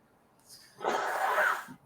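A single human sneeze bursts out close to the microphone, a short breathy intake followed by a loud, noisy expulsion lasting under a second, with no words around it.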